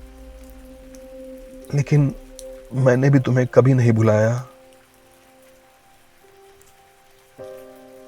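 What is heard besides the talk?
rain falling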